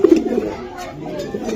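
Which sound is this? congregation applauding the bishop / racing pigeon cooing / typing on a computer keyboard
racing pigeon cooing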